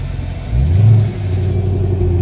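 A Chevrolet Camaro ZL1 1LE engine holding steady at normal RPM on the Sebring track, a loud, close, continuous low rumble that swells briefly, with no talking.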